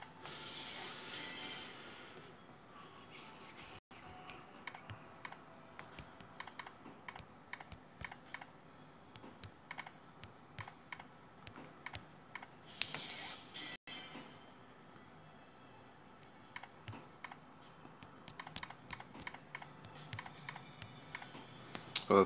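Computer keyboard typing runs quietly and continuously, with rapid irregular keystroke clicks and a few brief pauses, with no voices.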